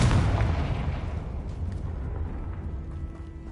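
A Confringo blast spell in Hogwarts Legacy booms out as one loud, deep explosion that starts with a heavy low-end burst and then rumbles away slowly over a few seconds, with no talking.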